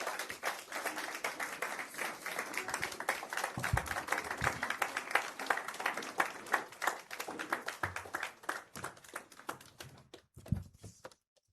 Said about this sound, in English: Please give a round of applause and join me in giving a warm welcome to Mrs. Oluveheyen.